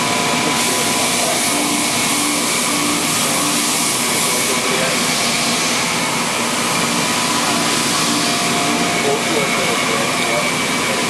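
A 2005 Star ECAS 20 CNC Swiss-type lathe runs in a clean medical machining shop, producing a loud, steady whirring drone with a constant high whine and no pauses, while a voice talks faintly underneath.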